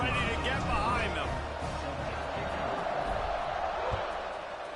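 A football stadium crowd roars at kickoff, a broad, steady wash of cheering that fills the whole moment. An announcer talks over the noise throughout.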